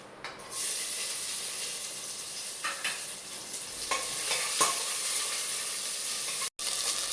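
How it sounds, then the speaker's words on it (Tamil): Steady sizzling and hissing of chopped onions frying in a pan, with occasional stirring scrapes and clicks, close and continuous. "இப்போ நறுக்கி வச்ச பெரிய வெங்காயத்தையும் இது கூட சேர்த்துக்குவோம்"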